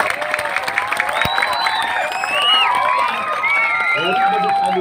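An audience at a lively Balinese comedy stage show bursts into cheering, whoops and shouting over scattered clapping, loud and close, with voices calling out through the crowd noise.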